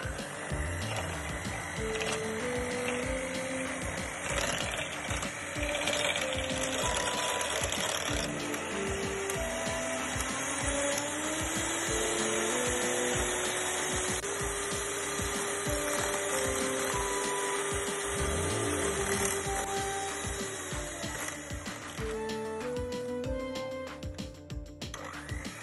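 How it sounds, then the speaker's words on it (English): An electric hand mixer whirs steadily at low speed, whisking heavy cream in a bowl, its motor pitch rising and falling slightly over a long continuous run with no talking. "I'll be using a mixer, okay guys, and I'll be taking it slow first"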